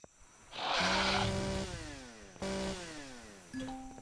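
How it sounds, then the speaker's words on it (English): A chainsaw revs as a melee weapon in the video game Empyrion Galactic Survival, a loud whining burst that bogs and pitches up and down, then cuts out and restarts twice in short spurts. "Hit him with the chainsaw."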